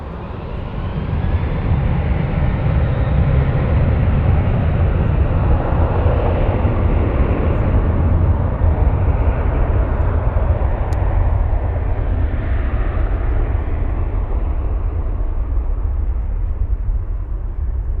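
A Lufthansa airliner at Frankfurt airport, its jet engines roaring loud and steady for the whole stretch with a broad, rumbling wash of sound that swells slightly as the aircraft passes.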